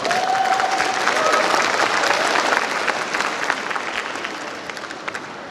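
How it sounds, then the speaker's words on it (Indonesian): A graduation audience applauds the graduates' parents, a dense, full wash of many hands clapping in a large hall that holds steady and then slowly thins toward the end, with a faint whistle early on. "mari kita berikan tepuk tangan kepada orang tua kita"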